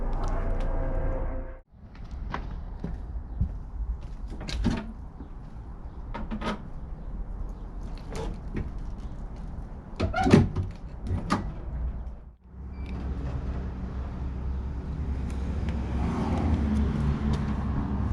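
Metal doors on a Rover P6 being opened and shut at home, heard as a series of sharp knocks and clunks over steady background rumble, with a brief lull partway through.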